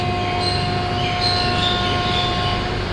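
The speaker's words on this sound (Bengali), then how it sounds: "এই যে আমাদের ট্রেন ছাড়ছে এবার।" Yog Nagari Rishikesh special train departing a Kolkata station, a continuous loud rail rumble with faint high wheel squeals and a steady tone inside the carriage.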